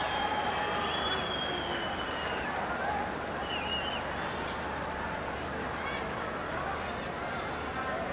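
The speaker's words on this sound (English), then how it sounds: "The crowd eagerly awaiting" Football stadium crowd at a Nepal vs Myanmar match, a steady dense roar of many voices filling the whole stretch, loud and continuous, with a faint whistle-like tone briefly rising above it.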